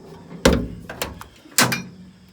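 The sliding window in the driver's door of a Land Rover Series 2A, rusty inside, is moved in three sharp, close knocks and scrapes of metal on metal with quiet gaps between.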